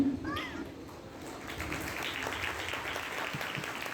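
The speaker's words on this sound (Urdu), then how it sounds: "تو قرآن مریم کے لیے بھی زوردار تالیاں۔" Applause fills a church during a feast celebration for St. Anthony of Padua, a steady broad crowd clapping throughout with a brief high voice near the start.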